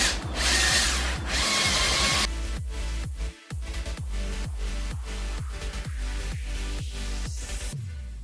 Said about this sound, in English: I took the sandpaper 60, see how I put on the drill, and I want to try it.